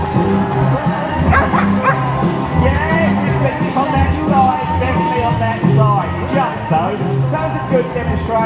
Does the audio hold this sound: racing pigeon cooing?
no